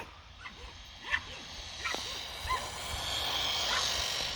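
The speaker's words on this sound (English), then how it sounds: "I got the dogs barking at the car" Dogs bark a few times at a distance, short sharp yelps at a passing Tamiya M03 Mini Cooper RC car, scattered over a steady outdoor rumble of passing traffic.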